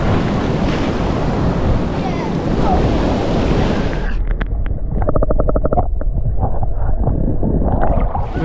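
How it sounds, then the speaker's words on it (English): Wash of ocean surf on the Margaret River coast of southwest Australia, a loud roaring rush for about four seconds that gives way to softer trickling, splashing water, heard up close with some wind buffeting. "Just got a big wave to come in and push you off."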